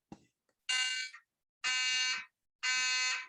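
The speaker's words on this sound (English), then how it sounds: "It's the fire alarm." Fire alarm sounding three loud, harsh buzzing blasts of about half a second each, evenly spaced with short silences between, close and dominant, with a faint bump before the first.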